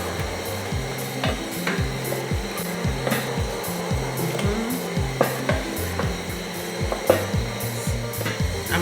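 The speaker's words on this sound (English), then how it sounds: "Give it a good stir." A spoon stirs blended tomato paste in a pot for a fresh silverfish (omena) stew, scraping in a steady repeated rhythm with occasional louder knocks against the pot, close and continuous with no voices.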